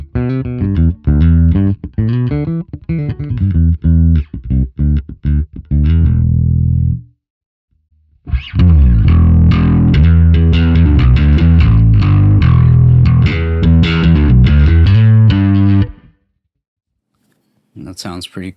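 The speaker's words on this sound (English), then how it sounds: "And there seems to be some kind of room reverb on there." An electric guitar played through a Neural DSP Nano Cortex pedal rings out in two loud, distorted passages of chords and notes. A short silence separates them, and a brief phrase returns at the end.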